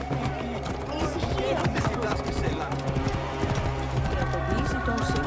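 Horse hooves clip-clop in the Assassin's Creed Origins video game, a rhythmic clatter running steadily under game music and a voice.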